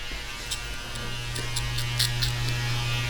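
Electric hair clippers with the guard removed buzz steadily up close while cutting a skin fade. A low, constant hum runs throughout, with a few brighter snips as the blades bite through hair.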